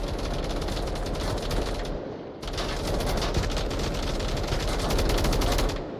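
Dense, continuous gunfire from the VR shooter game Onward during a competitive match, rapid overlapping shots filling the whole stretch with a brief lull near the middle, loud and close.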